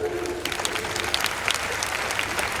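An audience at a Hindi comedy poetry gathering claps in a continuous, moderately loud burst with sharp individual hand claps standing out near the front.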